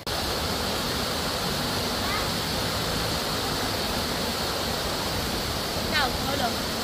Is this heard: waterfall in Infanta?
yes